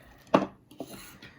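Scissors snipping off excess birch bark while making a round basket, one crisp close cut followed by a couple of softer snips and rustles, quiet, with no talking.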